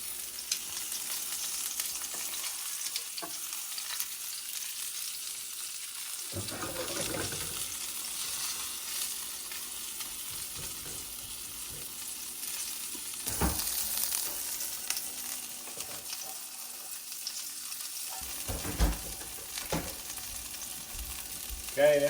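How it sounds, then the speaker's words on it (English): Salmon sizzling steadily in a sauté pan over a moderate flame, a constant bright crackle throughout with occasional louder spits and clatters of stirring, no talk. "You can hear that sizzling."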